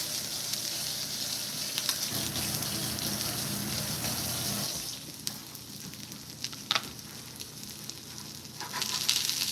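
Beaten eggs sizzle and fry steadily in a pan while cooking breakfast, a continuous hiss that is loud at first, drops lower midway, then swells again, with small clinks of utensils.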